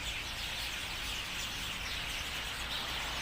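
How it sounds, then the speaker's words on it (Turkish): Small birds chirping outdoors, a dense, continuous high twittering that stays fairly faint and distant throughout with no talking. "Kuşların cıvıltısını duyuyor musunuz arkadaşlar?"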